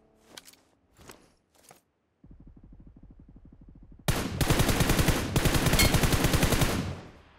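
Automatic gunfire in PUBG Mobile, likely from an SKS, cuts through as sustained rapid bursts that grow louder, following a few sparse clatters and a steady mechanical rattle.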